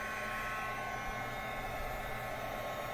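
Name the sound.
heat tool heating glitter paper from underside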